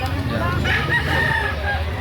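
A rooster crows amid a busy cluster of clucking chickens at a Saturday poultry market in Lipa City, Batangas, with a dense murmur of crowd noise underneath.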